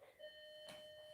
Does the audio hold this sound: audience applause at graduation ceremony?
no